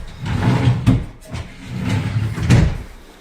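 Custom-fitted wardrobe drawers slide open and shut several times in a Toronto home renovation, giving close, rumbling rolls with a few knocks and bumps.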